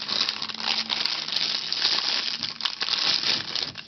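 Plastic packaging around a silicone soap mold being opened and handled, giving a continuous close crinkling and crackling with irregular sharp crunches throughout.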